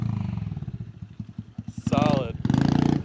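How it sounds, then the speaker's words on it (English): A TTR90 motorcycle doing a rolling burnout, its small engine buzzing in rapid, steady pulses and swelling to a loud, rising rev near the end, while voices talk over it. "From the dead to a rolling burnout."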